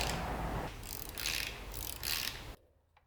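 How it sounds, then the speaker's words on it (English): A 3mm Allen key works the reflector bracket bolts on a Brompton bicycle's rear frame, giving a close, quiet run of ratcheting metal clicks and scraping that stops abruptly near the end. "I need to undo the bolts, one on each side of the reflector"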